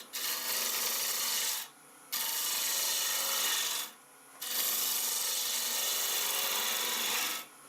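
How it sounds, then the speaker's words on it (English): A ball gouge cuts away the shoulder of a wooden hollow form spinning on a lathe, giving three long, steady rasping passes separated by short pauses. The cutting is close and continuous, with no speech. "if I put the ball gouge in, take the shoulder away"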